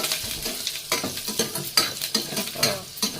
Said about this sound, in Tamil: இப்போ வந்து முந்திரி திராட்சை ஃப்ரை ஆகிடுச்சு